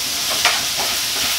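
Tomatoes frying in a pan while preparing a canned mackerel dish, a steady close sizzle with light stirring scrapes, continuous and even with no talking.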